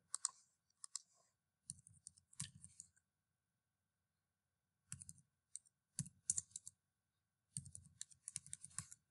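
Numbers are typed on a computer keyboard in quiet, separate bursts of sharp, close key clicks with short silent pauses between them.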